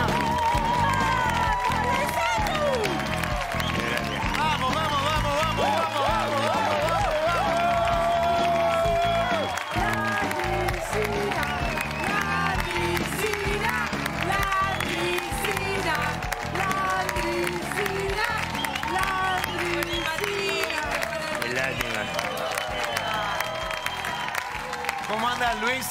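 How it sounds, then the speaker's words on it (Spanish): A studio audience on a television talk show stands and applauds a guest, the clapping running continuously under music and voices that carry on throughout. "nos ponemos todos de pie para aplaudirlo al señor Luis Landricina"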